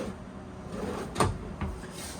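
A pull-out drawer beneath the refrigerator in a 2026 Forest River Rockwood Geo Pro G15TB travel trailer slides and bumps shut, a single close thump followed by a lighter knock against a faint background hum.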